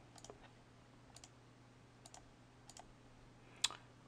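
Computer mouse being right-clicked while setting levels on the ThinkOrSwim trading platform, heard as a handful of faint, isolated double clicks spaced apart, with one sharper click near the end over a quiet hum.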